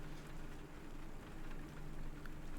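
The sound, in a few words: rain sound effect in visual novel game Mahoyo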